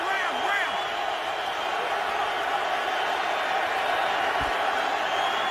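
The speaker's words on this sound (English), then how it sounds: "And the San Diego crowd is back in the game." San Diego football crowd cheering in a stadium, a steady broad roar that holds loud and unbroken throughout, with a commentator's voice faintly over it.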